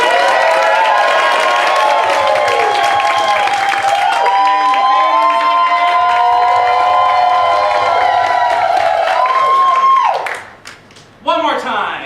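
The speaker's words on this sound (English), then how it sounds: "please applaud loudly." Audience at an improv comedy show cheering, whooping and clapping loudly to vote for a pairing, a dense roar of shouts and applause sustained for about ten seconds before cutting off abruptly.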